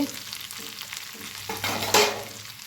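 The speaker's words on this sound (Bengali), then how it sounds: "সমস্ত মশলা আর আলুগুলি সব কষানো হোক" Potatoes and spices stir-fried in a pan for an egg curry, giving a soft steady sizzle with scraping spatula strokes that swell briefly near the end.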